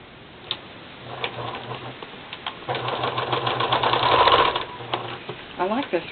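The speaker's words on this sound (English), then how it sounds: "So I'm just going to sew it" A sewing machine stitches a fabric tab onto a stamp craft piece. It runs in a steady whirring, ticking rhythm in several runs with brief stops between them, close by and fairly loud.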